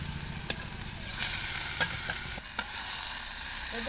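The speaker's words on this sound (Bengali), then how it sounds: "একটু ভাজি করে না নিলে পোড়া পোড়া গন্ধটা আসছে, তাই একটু হালকা ভেজে নেবো।" Drumstick (moringa) pods frying and sizzling in a pan with lightly fried onion, garlic and chillies, a steady close sizzle with occasional stirring clicks and scrapes.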